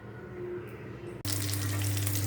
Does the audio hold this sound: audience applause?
no